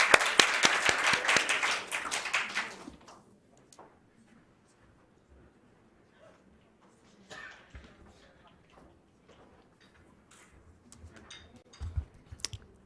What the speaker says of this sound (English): Please welcome him to the stage with thunderous applause